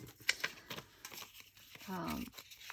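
Close crinkling and crumpling of paper banknotes, a few sharp crackles followed by a softer sustained rustle.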